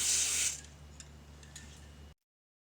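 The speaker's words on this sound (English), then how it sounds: "So you're going to spray the brake cleaner on the rag." Brake cleaner sprays from an aerosol can onto a rag during a Eurovan valve cover job in a workshop, one loud hissing burst for about half a second, then fading to low background noise.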